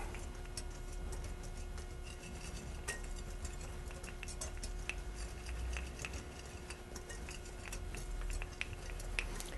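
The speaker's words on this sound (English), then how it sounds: "I want to whisk these together until they're well blended" A whisk stirring dry flour and baking soda together in a bowl makes steady, faint, rapid ticking scrapes, close and continuous, with a low steady hum beneath.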